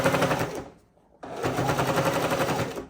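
A sewing machine runs in two steady rapid bursts with a brief stop between them, stitching pink bias tape onto a fabric sewing machine cover, loud and close.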